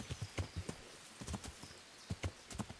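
Horse hooves clip-clopping in the video game Kingdom Come: Deliverance, a steady run of close, distinct hoof strikes with no talk over them.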